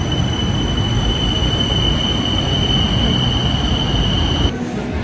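Inside a moving metro train: a continuous rumbling roar with a steady high whine, ending in a brief drop as the noise shifts near the end.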